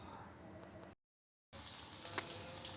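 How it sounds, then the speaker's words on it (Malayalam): Prawns fry in hot oil for a prawn roast, a steady close sizzle broken by a short silent gap, then returning stronger with brisk crackling. "എന്നിട്ടൊരു ഗോൾഡൻ കളർ ആവുന്നത് വരെ നമുക്കിതൊന്ന് ഫ്രൈ ചെയ്തെടുക്കാം"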